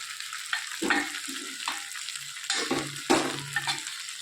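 A spatula stirs fried potatoes and okra in a hot pan, producing a steady sizzle with repeated scraping and clanking strokes, close and alone.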